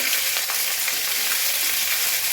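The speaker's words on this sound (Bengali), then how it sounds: "একটু ভাজা ভাজা করে নেব।" Spices frying in hot oil in a wok (kadai) for cauliflower curry, a steady, loud, close sizzle that holds evenly throughout with no talking.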